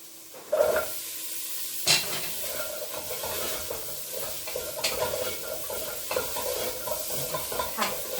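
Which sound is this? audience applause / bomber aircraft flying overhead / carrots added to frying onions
carrots added to frying onions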